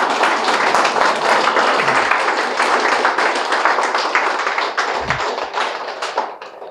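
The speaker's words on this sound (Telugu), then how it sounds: "మరొకసారి గురుస్థానానికి అద్భుతంగా చప్పట్లు కొడదాం." A workshop audience claps loudly and steadily for the guru, a dense wash of many hands close by that thins and fades at the end.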